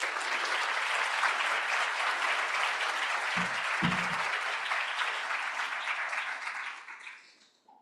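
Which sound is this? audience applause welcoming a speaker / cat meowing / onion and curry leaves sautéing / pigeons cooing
audience applause welcoming a speaker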